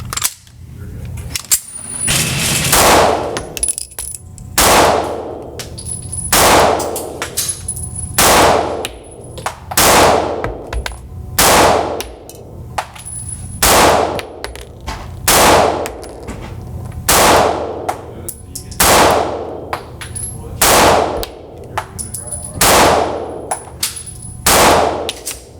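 Springfield Hellcat Pro pistol firing a magazine at a range, loud sharp reports spaced roughly a second or two apart in an uneven rhythm, around twenty shots with faint ringing between them and no talk.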